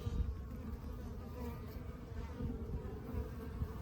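Honey bees buzz continuously around a brood comb frame in an open hive, a dense, steady drone heard close up.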